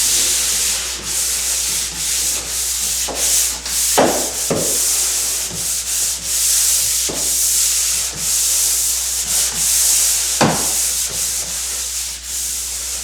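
Hand sanding of painted wood and metal, a steady close, continuous abrasive rubbing with repeated back-and-forth strokes and occasional sharper scuffs, carrying on alone without any voices.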